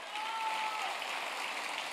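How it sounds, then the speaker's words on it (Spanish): Steady, even applause from an audience at a sermon-style talk, a continuous wash of clapping at moderate level with no pauses and no talk above it. "Dele un aplauso al rey"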